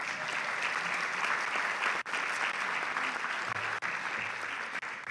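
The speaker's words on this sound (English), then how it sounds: "give yourselves a round of applause." Audience applause at a nonprofit plenary session on funding strategies, sustained full-room clapping that carries loudly and evenly throughout.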